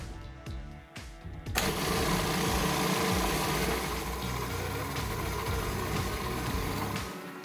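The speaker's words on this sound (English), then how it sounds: "We're gonna add the olive oil while it's blending to make it really nice and smooth." A blender whirring steadily as it purées broccoli pesto while olive oil is drizzled in, a loud continuous motor drone that kicks in after a few short pulses and runs smoothly without talk.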